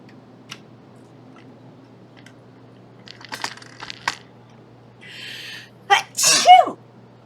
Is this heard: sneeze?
yes